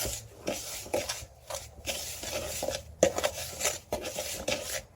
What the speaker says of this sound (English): Just mix it in like you're making a buttercream